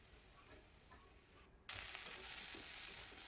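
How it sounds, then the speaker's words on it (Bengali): A steady, faint sizzle that jumps suddenly louder partway through as washed ivy gourd leaves are dropped into hot oil in a pan, then crackles on evenly. "শাকগুলো ভেজে নিলাম"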